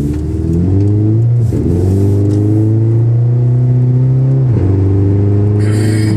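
A Scion FR-S with an automatic transmission accelerates at roughly 30 to 40 percent throttle, its engine note droning steadily and climbing in pitch through two gear changes, loud and close from inside the cabin.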